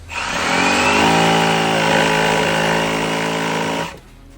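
Power saw making a perpendicular cut into a deck stair stringer, a loud buzzing cut of a few seconds that starts abruptly, holds steady, then winds down.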